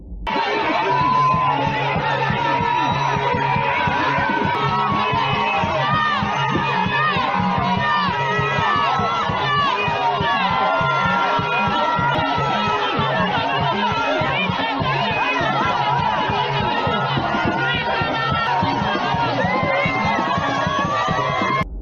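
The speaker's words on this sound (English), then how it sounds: "the crowd around her erupts in cheers and prayers as they witness what looks like a miracle unfolding right in front of them" A large crowd roars continuously with cheering, shouting and excited chatter, dense and loud for the whole stretch, voices overlapping without pause.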